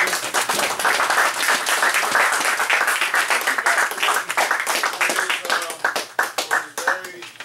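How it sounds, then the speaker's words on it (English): An audience claps in sustained applause, many hands patting together, gradually thinning out toward the end. "a round of applause"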